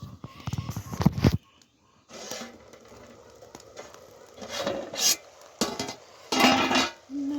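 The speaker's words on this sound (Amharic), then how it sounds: "ሽንኩርት እያበሰልን ነው" Onions cook in a pot with soft sizzling and the scrape and clink of a utensil stirring in short bursts, broken by brief pauses.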